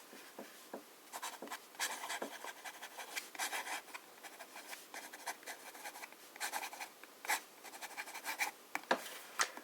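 A fine-nibbed fountain pen inked with Sailor Jentle Blue scratches across cheap copier paper in quick, irregular strokes, close and quiet with short pauses between words.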